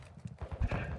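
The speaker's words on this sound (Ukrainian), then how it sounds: "Все десь коні бігає." Horses galloping in Call of Duty Warzone 2.0 DMZ, a quick run of hoof clip-clops that grows louder and nearer across a brief stretch, with faint whinnying.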